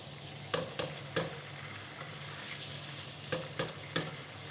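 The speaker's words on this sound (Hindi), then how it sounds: "इसको ज़रा भून लेंगे।" Ginger garlic paste sizzles steadily in a hot pan for chicken karahi, with a few sharp clicks of a spoon stirring against the metal in two clusters.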